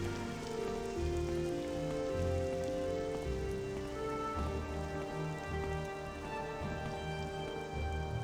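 Steady rain in the video game The Elder Scrolls III: Morrowind patters on a surface, a continuous even hiss with no talking.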